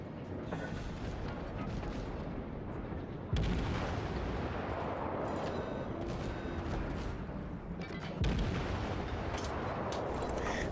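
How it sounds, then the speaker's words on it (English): Naval guns of a Kuma, a Japanese tier IV cruiser in World of Warships, boom in heavy salvos, with a dense roar of gunfire and distant explosions throughout and two sharp louder volleys partway through. "Returning fire angrily, the Kuma fires 2 shells that tear through the enemy citadel"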